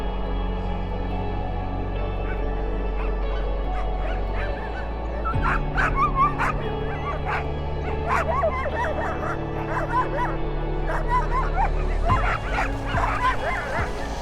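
Siberian husky sled dogs in Siberia bark and yip continuously, a dense chorus of overlapping sharp barks and high whimpers from several dogs at close to middle distance, steady and loud throughout.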